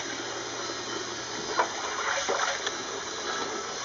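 Water runs steadily from a faucet at a moderate level while Boston Terrier puppies are rinsed during their first bath, with a few brief splashes partway through.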